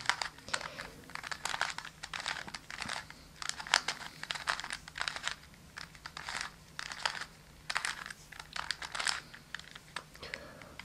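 A plastic Curvy Copter twisty puzzle cube is turned repeatedly, giving close clicking and clacking bursts in an uneven rhythm, with short pauses between moves.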